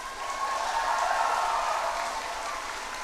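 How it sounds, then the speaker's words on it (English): Audience applause for a performance at an FMA India centenary celebration: steady, dense clapping from a large crowd, sustained evenly throughout without voices over it. "can we give them a big round of applause?"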